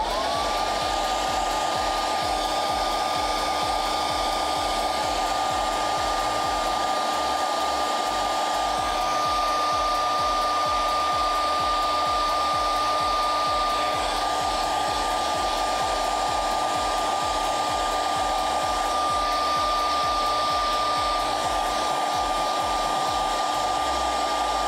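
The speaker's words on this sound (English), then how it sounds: "just like before, we'll get the hairdryer." A hair dryer blows continuously at close range, a loud, even whir with a steady high-pitched whine and no talking.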